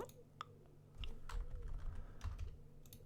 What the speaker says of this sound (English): I'm going to have to physically type it in.